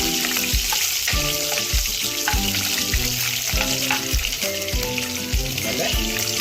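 Fish sizzles steadily as it fries until browned in a pan for a Karwar-style fish thali, with a dense, continuous crackle and repeated clinks and scrapes of stirring through it, close and fairly loud, with no talking.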